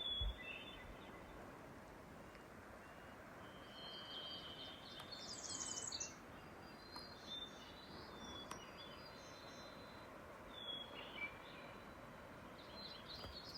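Birds chirp faintly beside a snowy mountain lake on a spring trail, with scattered short calls over a soft, steady outdoor hush and no talking.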